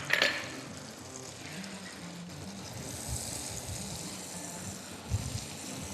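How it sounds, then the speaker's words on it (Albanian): Mushrooms frying in a pan at high heat, giving a steady moderate sizzle with a few clinks of utensil against the pan. "Temperatura kur i skuqim kërputat në fillim duhet shumë e lartë."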